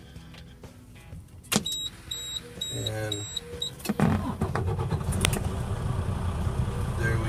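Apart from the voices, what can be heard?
truck engine starting and idling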